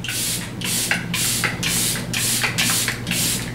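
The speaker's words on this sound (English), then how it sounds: "Charlotte Tilbury setting spray." A Charlotte Tilbury makeup setting spray is pumped in six quick, even bursts of fine hissing mist, close and steady, with no talking.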